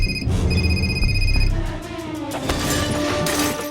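Telephone ringing with a bright repeating electronic tone over a dark, rumbling film score, followed by clattering hits and a swelling musical crash.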